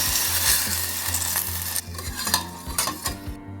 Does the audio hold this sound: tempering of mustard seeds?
yes